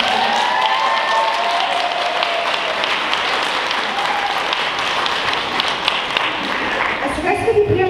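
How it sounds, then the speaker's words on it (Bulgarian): Dense, steady audience applause fills a school's thirtieth-anniversary jubilee concert hall in Vancouver, loud and sustained throughout with a few sharper claps standing out near the end. "Моля ваши аплодисменти."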